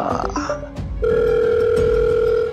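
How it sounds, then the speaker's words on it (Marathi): A phone rings in a Marathi TV serial: a steady, loud electronic tone sounds almost alone for about a second and a half, after a few shorter beeps and muffled background sounds. "सावीचा फोन आला."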